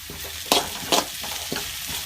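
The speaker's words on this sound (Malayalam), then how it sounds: "നന്നായിട്ട് വഴറ്റാം." Onion, ginger and green chili sauté in a hot pan with a steady close sizzle, broken by several scraping stirs of a spoon.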